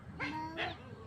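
Dogs running up outdoors near a temple at sunset, giving two short whining yelps close by, each with a rising and falling tone, over faint background hum.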